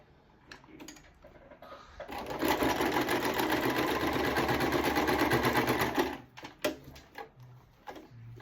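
A sewing machine stitching a sunglasses pouch runs in one steady, rapid mechanical whir for about four seconds, close and loud, with handling clicks and light knocks before and after.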